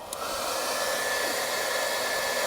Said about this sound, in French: Alors j'ai branché le sèche-cheveux, j'ai cliqué sur AC, on va lancer.